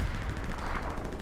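Video game gunfire in Hell Let Loose during a competitive championship match, a dense continuous rattle of automatic fire and distant shots filling the whole brief moment.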